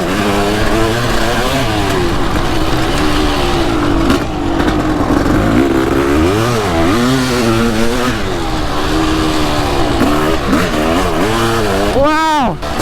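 A Kawasaki KX500 dirt bike with a broken shifter riding in second gear, its loud two-stroke engine droning close by with rising and falling revs throughout and a final sharp rev climb at the end.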